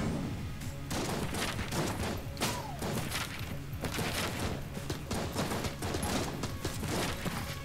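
Dense, continuous barrage of gunshots and impacts in Enter the Gungeon, with an AK-wielding enemy firing amid a busy, cluttered mix of rapid pops and thuds.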